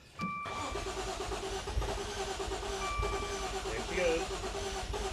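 A flood-damaged Maserati engine, submerged in a Florida hurricane, cranks briefly and catches, settling into a rough running idle close by while people talk over it.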